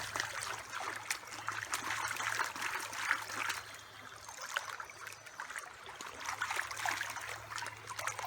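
Stream water trickles and sloshes softly as a gold pan is swirled in it, quiet and close, with splashy swishes rising and falling in bursts and no speech.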